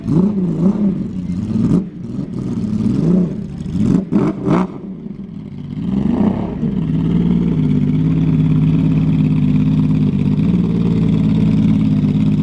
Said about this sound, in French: le bruit de la F50, franchement, c'est celle que je préfère